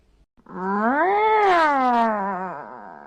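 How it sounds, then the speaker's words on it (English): A single drawn-out, whiny cat meow rises and then slowly falls, loud and close, lasting a couple of seconds. "then we have the dissatisfied meow"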